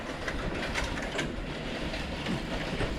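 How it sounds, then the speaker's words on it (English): A train passes nearby during an outdoor bike ride on a pathway to Rocky Point in NSW, Australia, giving a loud, steady rumble with rhythmic wheel clatter. "Got a whole train."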